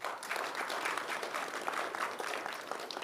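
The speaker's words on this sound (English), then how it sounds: "Let's give them a round of applause." An audience at an afternoon state gathering applauds the members of the Council of State with steady, dense clapping that continues evenly throughout without voices.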